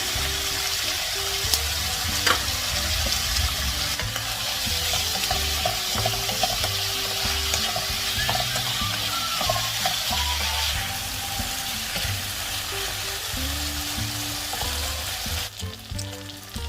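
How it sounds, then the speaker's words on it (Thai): Pork stir-frying over medium heat in a pan, with a strong, steady sizzle close by and frequent rhythmic scraping of a spatula, no voices. "เราจะผัดหมูจนกระทั่งมีไขมันออกมานะคะ"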